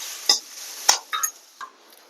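Grated raw plantain tipped into a pan with tempering for valakkai podimas and stirred, a few distinct scraping and clinking strokes with a faint sizzle, close and without talk.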